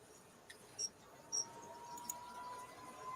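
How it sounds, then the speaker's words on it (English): Crickets kept indoors as feed for chameleons and leopard geckos chirp faintly in a quiet room, giving a few brief high chirps over a soft steady hum. "Got crickets singing because I've been feeding chameleons and leopard geckos and stuff."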